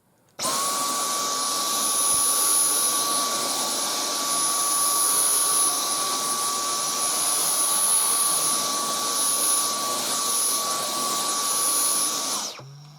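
A Dyson V10 Total Clean cordless vacuum cleaner starts abruptly and runs at a loud, steady high-pitched whine for about twelve seconds, close up and alone, then cuts off.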